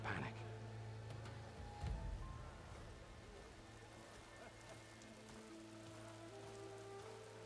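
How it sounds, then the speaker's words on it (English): Rain falling in the game Horizon Forbidden West, a soft steady patter over low ambient drones and music, with a brief louder disturbance early on and a voice speaking faintly beneath. "Rain."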